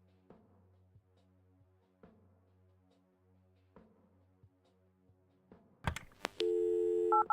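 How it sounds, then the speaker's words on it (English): A telephone call in the video game Kathy Rain sounds as evenly spaced ring tones that repeat about once a second, followed by sharp pickup clicks and a brief electronic tone burst at the end. "let's use the phone and call Dave,"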